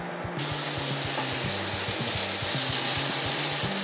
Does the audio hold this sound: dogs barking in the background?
no